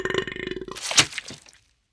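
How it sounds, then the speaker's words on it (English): A loud, croaking burp in a Harry Potter audiobook, a rapid buzzing rattle that breaks into a wet gurgle and fades out, close and alone. "He burps loudly, and several slugs slime out of his mouth."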